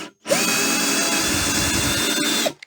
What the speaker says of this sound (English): 3 screws here. I wonder how tough they'll be.